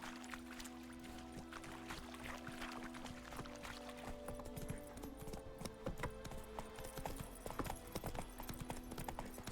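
Horse hooves clip-clop in a steady rhythm over a low ambient drone, close by and continuous throughout, in the video game The Witcher 3.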